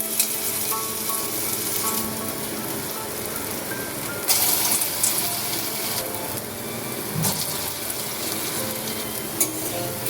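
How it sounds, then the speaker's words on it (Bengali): Small fritters of ground red lentils deep-fry in hot oil with a loud, steady, dense sizzle close by. A few brief clatters and splashes break through the hiss. "ডালের বড়াগুলো ছোট ছোট করে ভেজে নিচ্ছি।"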